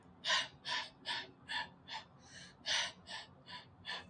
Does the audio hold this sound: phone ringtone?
no